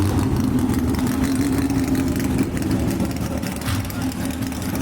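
A 1950 Pontiac Chieftain gasser engine rumbles loudly at Kil-Kare Dragway, a steady low drone at the drag strip while an announcer talks over it.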